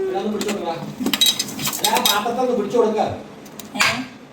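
A metal plate slides across a surface at a home meal, and dishes and cutlery clink and clatter in several sharp, close bursts, with faint voices in the background.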